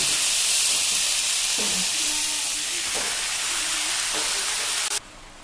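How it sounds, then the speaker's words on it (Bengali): Leafy greens tipped into hot oil after lightly fried aubergine give a loud, continuous hissing sizzle with a few soft stirring knocks, cutting off abruptly near the end. "এবার শাক ছেড়ে দেবো।"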